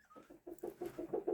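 Frizzled Lyonnaise laying hens and roosters cluck in a run of about eight short, rhythmic clucks that grow gradually louder, close by and with no voices over them.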